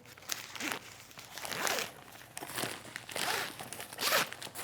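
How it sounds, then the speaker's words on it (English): Several bursts of a cheap zipper on a nylon guitar gig bag, zipping and rustling fabric close up, with crinkly scraping movements in between and no voices. "I mean, it's a cheap zipper."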